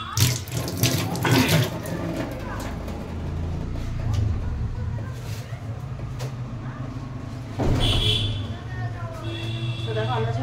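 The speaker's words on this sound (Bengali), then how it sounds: "চালের ডালটা ধুয়ে ফুটতে বসিয়ে দিই" Rice and dal washed under a running kitchen tap, with a steady water stream and splashing throughout and someone talking over it.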